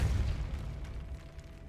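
A Depulso spell goes off in Hogwarts Legacy as a soft, low rumbling thump that fades over a second or so, heard alone and fairly quiet.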